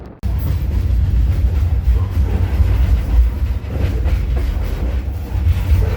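A train rumbles steadily along the tracks, its low heavy roll close and loud, with faint rhythmic clatter from the wheels.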